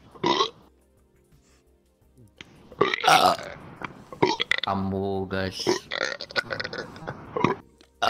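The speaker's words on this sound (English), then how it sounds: "Oh my god! Burping." A stream sound alert plays a long, loud, drawn-out burp with a deep, buzzing tone, surrounded by bursts of excited speech and shouting before and after.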